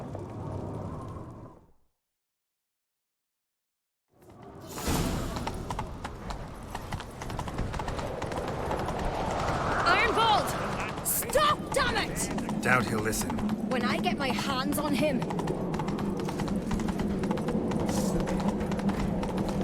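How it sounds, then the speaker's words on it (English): Horse hooves clip-clop in a fast gallop during a chase in The Witcher 3, a steady rhythmic pounding that begins after a short silence, with voices talking over the hoofbeats. "Grab a horse, we'll chase him down"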